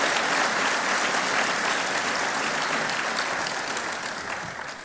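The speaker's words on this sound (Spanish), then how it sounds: "Un aplauso no estaría mal, ¿no?" Sustained audience applause in a lecture hall, a dense, even wash of many hands clapping at close range that gradually fades toward the end.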